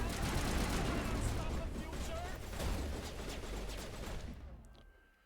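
Dense, continuous gunfire from the video game Mass Effect 1 roars steadily for several seconds, loud and close, then fades out abruptly near the end.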